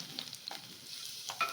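Curry leaves frying in hot oil for sweet potato chevdo, after cashews have been fried, make a brief, close, bright sizzle with a few sharp pops and no talking.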